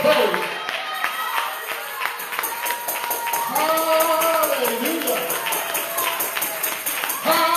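A church congregation clapping hands during a service, a steady rhythmic patter of many hands throughout, mixed with organ or keyboard tones and voices singing or calling out.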